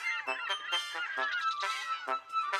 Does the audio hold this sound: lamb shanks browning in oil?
no